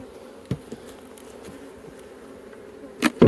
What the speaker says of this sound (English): this is where the aggressive bees are